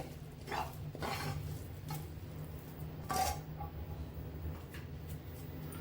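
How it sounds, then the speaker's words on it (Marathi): Warm fresh-coconut barfi mixture being pressed into a ghee-greased plate, heard as a few close, fairly quiet scrapes and taps of a utensil on metal. "आता मी ताटात थापायला घेते।"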